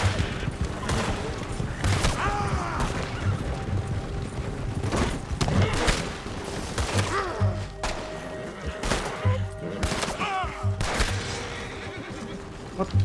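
Sporadic gunshots in the video game Red Dead Redemption 2 during a standoff with US Army soldiers, sharp cracks and thuds scattered over ambient noise, some fairly loud, with a horse whinny and faint voices mixed in.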